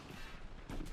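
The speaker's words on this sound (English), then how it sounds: "the machine gun sounds, the Thompson sounds" Gunfire from the Medal of Honor video game, machine gun and Thompson submachine gun, loud and dense in a brief burst that swells sharply near the end, with speech mixed in.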